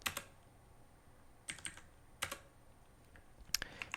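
Fingers tap a few keys on a computer keyboard to enter a number, with short clusters of light clicks separated by pauses in a quiet room.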